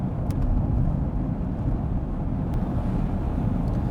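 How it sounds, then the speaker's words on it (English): A low, steady drone from a Daimler Double Six V12 cruising on the road, a smooth continuous rumble blended with wind and road noise, with no talk. "Just the low drone of the V12 in the background."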